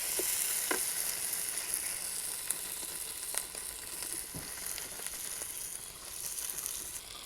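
Spice paste sautéing in oil for rui fish kalia, a faint continuous sizzle with scattered stirring taps and scrapes, no voices.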